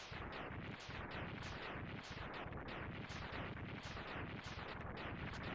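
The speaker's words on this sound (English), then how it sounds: "Screen filling explosions for the win." Continuous rumbling blasts roll on one after another in Mega Man X, a dense, roaring wall of screen-filling explosions with no pause or voices.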